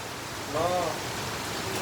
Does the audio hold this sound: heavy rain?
yes